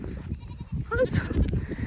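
Goats bleat in a short, nasal call that rises briefly amid people chatting nearby, with the animal sound partly under the voices.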